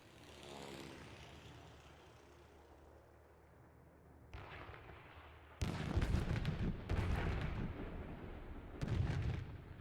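Anti-aircraft fire from base defenses in the War Thunder video game, with a low rumbling background building into several loud, sharp bursts of heavy gunfire spaced a second or two apart.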